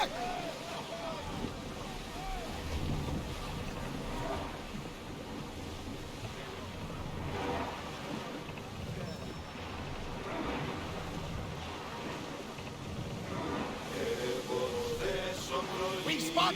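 Waves and wind rush steadily around a sailing ship at sea in Assassin's Creed Odyssey, a continuous broad wash of surf and hull noise with faint voices calling out beneath it.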